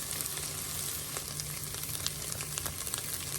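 Texas red chili with roasted tomato paste sizzles over a fire, a steady low crackle and fry with scattered pops, moderately quiet and without voices.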